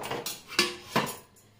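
Dishes and bowls, including a tea cup and a bowl that held mixed dosa batter, clink and clatter as they are handled in a home kitchen: about four sharp, close knocks spread over a moment, with no talking.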